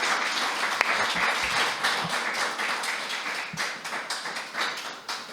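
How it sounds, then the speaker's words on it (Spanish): A lecture audience at the Ateneo de Palencia claps in applause, a sustained, fairly close patter of many hands with a few louder individual claps, gradually thinning toward the end. "un fuerte aplauso para a ti."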